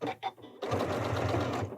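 A Janome 9480 sewing machine stitches a quilted mug rug: two short bursts of stitching, then a steady fast run of needle chatter, close and clear.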